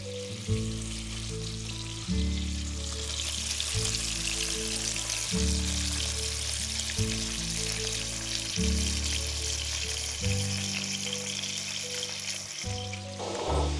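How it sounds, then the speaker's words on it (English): Pre-sliced sausage fries in a cast iron skillet with a steady close sizzle, while a repeating melodic tone pattern plays prominently over it and no voices are heard. "Just pop it in your skillet and you're gonna fry it until it's done."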